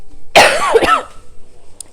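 A single harsh cough close to the microphone, a short rough burst that fades into quiet.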